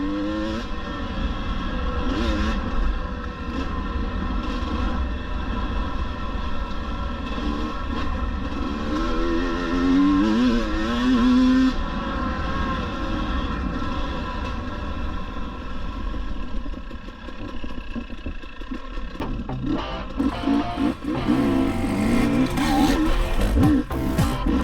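A 2022 GasGas EC 300 enduro motorcycle engine on a hard enduro ride, a steady buzzing drone that rises and falls with throttle changes, close and continuous with sharper revving bursts near the end.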